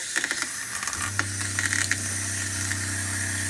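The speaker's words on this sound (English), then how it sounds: "you hear the water pump running." A small RV water pump in a 2018 Coachmen Freelander Class C motorhome hums steadily after about a second, with clicks and light mechanical rattles over water running from the sink.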